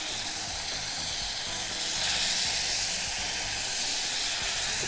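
Butter and sugar sizzling in a pan with pears added, a steady bright hissing sizzle that swells slightly partway through, close and continuous with no talking over it.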